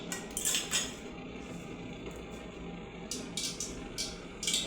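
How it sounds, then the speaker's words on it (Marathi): Mustard seeds splutter in hot oil in a pot on a gas stove, sharp crackling pops arriving in short irregular bursts over a low, quiet background. "मोहरी मस्त तडतडत आहे, म्हणजे तेल छानपैकी गरम झालेलं आहे।"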